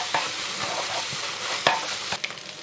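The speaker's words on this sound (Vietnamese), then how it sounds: "chỉ cần xào nhanh như vậy thôi thì cải nó giòn ngon" Mustard greens sizzle and crackle in a hot wok during a quick stir-fry, with scraping stirs and sharp clanks of a spatula at irregular intervals.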